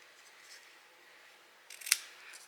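Scissors snip through paper or card while crafting a reindeer treat box, a quiet rustle followed by one sharp, crisp cut near the end.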